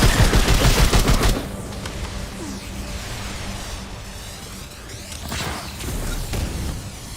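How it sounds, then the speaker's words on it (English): Homing projectiles fire in the video game Remnant 2, opening with a loud burst of rapid repeated shots, then fading into softer whooshing and mechanical game sounds that surge again toward the end. "And they shoot homing projectiles"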